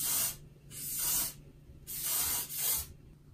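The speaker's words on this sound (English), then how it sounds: "just spray." Hairspray, Gatsby brand, hisses from an aerosol can while styling a Korean two-block haircut, four short close bursts in an uneven rhythm, with no talking over them.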